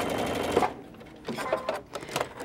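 Sewing machine stitching a pillow, a short close burst of whirring, a brief pause, then uneven stuttering runs of stitching.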